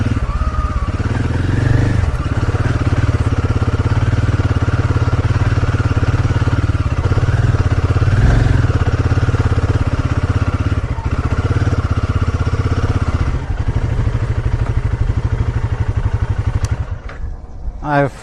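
A motorcycle engine runs loudly and steadily throughout on a ride around Dabling, a constant close-up drone with light mechanical clatter, while a voice speaks over it.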